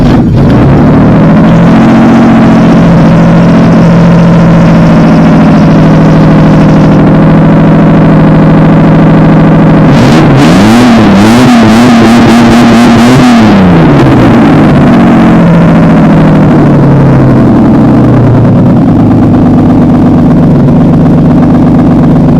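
A waterlogged engine that once sat underwater runs with no exhaust fitted, a loud, raw, steady drone throughout, rising into a brief wavering rev in the middle before settling back to a rough idle.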